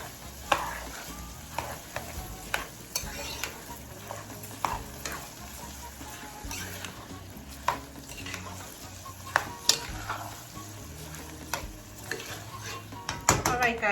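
Rice is stirred in a cooking pot with steady scraping and clinking strokes, over a continuous sizzling hiss and a low hum of a busy kitchen.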